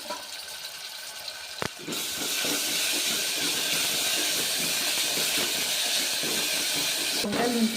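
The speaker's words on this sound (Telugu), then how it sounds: "ఒక స్పూన్ అల్లం వెల్లుల్లి పేస్ట్ వేస్తున్నానండి" A spoonful of ginger garlic paste hits hot oil in a pan for a stuffed brinjal curry, bursting into a loud, steady sizzle after a sharp contact sound, close and continuous.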